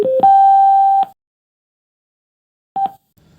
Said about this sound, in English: this board also have a loud turning on sound.